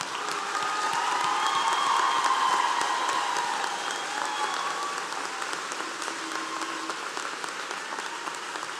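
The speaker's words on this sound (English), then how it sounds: "Let's give our graduates one more round of applause." Audience at a high school graduation ceremony applauding the graduates, a sustained broad wash of clapping in a large hall that slowly tapers off.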